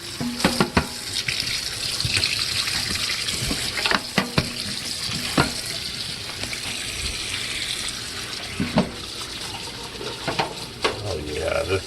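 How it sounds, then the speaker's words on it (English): A tap runs steadily into a sink while a dyed disc golf disc is rinsed. A constant near hiss of water is broken by scattered clatters and knocks as the disc is handled. "I already got the water running, so we're going to pull it out and we're going to go and rinse it off."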